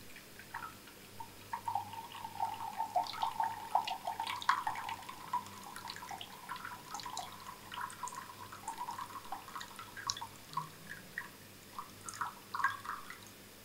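Quiet trickling and dripping water being poured into a container for a cement setting-time test, small splashes falling irregularly over a faint steady background.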